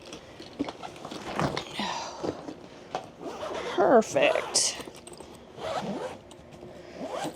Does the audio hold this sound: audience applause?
no